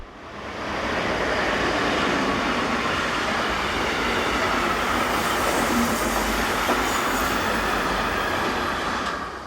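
A BLS Class 465 electric locomotive hauling a westbound train passes with a continuous loud roar of wheels and rail noise, steady throughout with faint clickety-clack and no voices.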